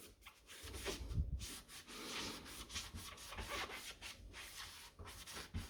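Steady back-and-forth scrubbing with an Elbow Grease magic eraser sponge across a hard surface, a close, continuous rubbing rasp with rhythmic strokes and no talking.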